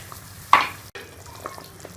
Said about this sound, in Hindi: अब इसके अंदर हम ये अपने कोफ्ते ऐड कर देंगे।